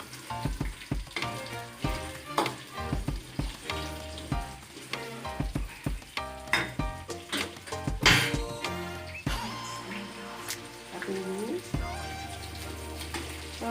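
Shrimp paste (terasi udang) frying in a pan for sambal terasi, a dense steady sizzle with repeated sharp stirring and scraping knocks throughout, loud and close, with no talking.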